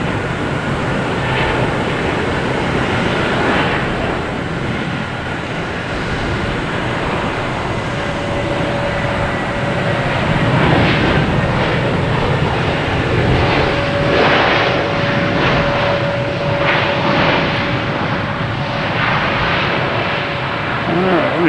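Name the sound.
American Airlines Airbus A321 airliner arriving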